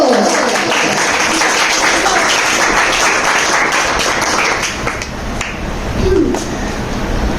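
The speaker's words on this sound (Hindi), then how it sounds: "इनका भी तालियों से इस्तेकबाल किया जाए शीता टंडी को" A crowd at a stage event in an Islamic school hall applauds a guest being welcomed, continuous dense clapping that carries through the whole stretch, loud and close, with a voice briefly heard above it.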